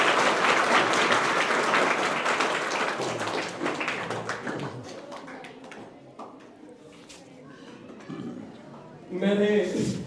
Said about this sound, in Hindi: सर के लिए जोरदार ताली बजाओ